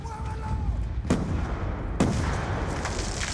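A frag grenade detonates in the Black Ops 2 campaign, two sharp booms about a second apart standing out over steady battle noise and distant gunfire.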